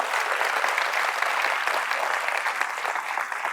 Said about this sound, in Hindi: उसके लिए ताली बजा दो